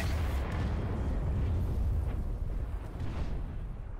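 Spaceship self-destruct explosion in the video game Elite: Dangerous, a loud, sustained rumbling roar of the blast that fills the whole moment and slowly tails off, with no talk over it.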